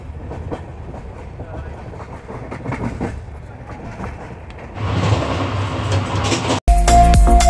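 The Swatantrata Senani Express, a superfast passenger train, rolls along the rails with a steady clickety-clack, heard from inside the carriage. The rumble swells louder partway through, with no talk.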